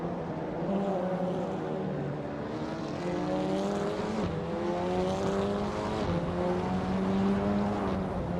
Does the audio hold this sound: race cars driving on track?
yes